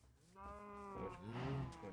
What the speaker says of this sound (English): Let me come over here and show you my cows.